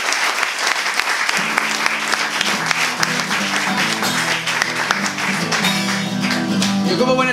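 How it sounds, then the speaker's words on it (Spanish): Audience applause for Radio Contrabanda at a Barcelona talk and concert, sustained loud clapping from a crowd with instrumental music rising underneath toward the end. "que un aplauso para ellos, para vosotros, para estar aquí, para la Radio Contrabanda"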